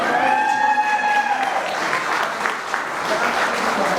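Audience applause at an Uzbek wedding celebration, a dense, steady clapping that fills the room for the full four seconds, with a sung or held tone fading out early on.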